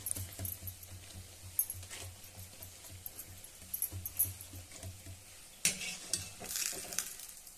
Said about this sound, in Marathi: अशा पद्धतीने आपण सर्व घाऱ्या करून घेऊया आणि तळून घेऊया.